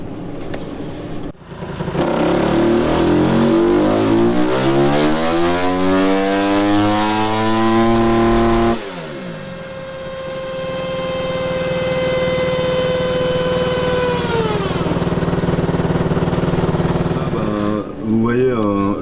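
A loud motorcycle engine on a dyno revs steadily upward under load, drops off abruptly, then holds at a high roaring pitch before winding down.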